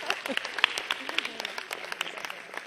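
A theatre audience at a staged performance of the Tamil epic Silappatikaram gives a short burst of brisk clapping and cheering, fairly close, with voices mixed into the applause.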